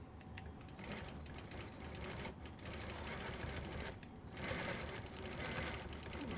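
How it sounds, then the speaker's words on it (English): A Gammill longarm quilting machine stitches steadily, its needle mechanism producing a continuous rapid mechanical rhythm with brief slowdowns, close and moderately loud with no talking. "this is how I stitch in the ditch"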